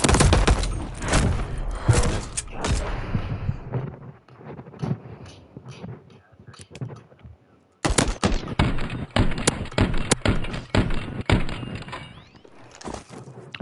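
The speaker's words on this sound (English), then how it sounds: "I love this pistol now." Repeated sharp pistol shots ring out in a video game, loud and close, coming in quick irregular bursts separated by quieter gaps, with a short near-silent pause partway through before the firing resumes.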